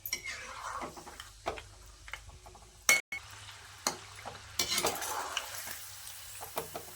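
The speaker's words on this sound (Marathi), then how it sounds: "त्याच तेलामध्ये ना इथं अर्धी वाटी मी शेंगदाणे घेतले आणि हे सुद्धा घालून घेते ते चांगले असे खमंग भाजून घ्यायचे" Peanuts roasting in hot oil in a pan on low flame for a spicy garlic snack mix, with a steady gentle sizzle and intermittent clinks and scrapes of a spoon stirring the nuts.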